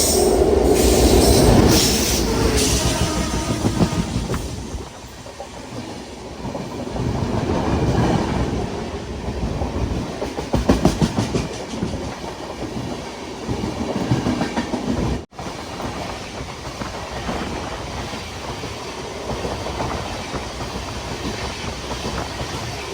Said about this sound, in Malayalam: ഇതാ തിരുവനന്തപുരം സെൻട്രൽ റെയിൽവേ സ്റ്റേഷനിലേക്ക് നമ്മുടെ ട്രെയിൻ എത്തുകയാണ്